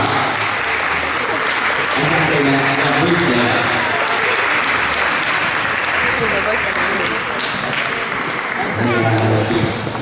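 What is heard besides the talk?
audience applause at dance competition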